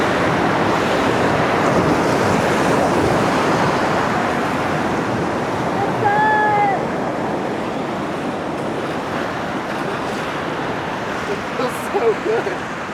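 Water of the Middle Ocoee River rushes in a loud, steady broadband roar under wind buffeting the microphone, with a brief faint tonal chirp partway through.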